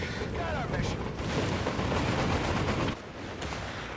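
Continuous battlefield barrage of gunfire and artillery in the Company of Heroes 3 strategy game, with a smoke barrage and mortar fire: dense rumbling explosions and rapid shots, loud and steady, with speech mixed in.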